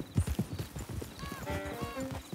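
Horse hooves clip-clop in a quick rhythm at a stable in the Red Dead Redemption 2 video game, close and fairly quiet, followed by brief tonal game sounds.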